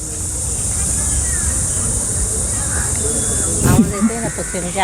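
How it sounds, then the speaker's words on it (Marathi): Dense forest in Aarey Colony, Mumbai: a steady high cricket trill drones throughout, with faint scattered bird chirps beneath it and a voice briefly breaking in near the end. "पक्ष्यांचे आवाज, असं रातकिड्यांचे आवाज, सगळे मिक्स आवाज आहेत"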